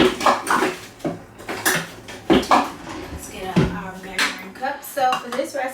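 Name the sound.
creaming butter and sugar together in a bowl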